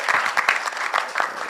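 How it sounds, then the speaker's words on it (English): Audience at a surgical society's annual scientific conference in Kenya claps steadily and loudly, a dense burst of applause filling the whole moment with no voices. "So you can clap for yourselves if nobody's clapping for"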